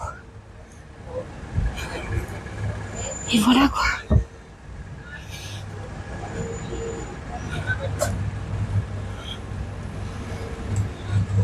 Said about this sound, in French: ah bah tiens, il est là le métro.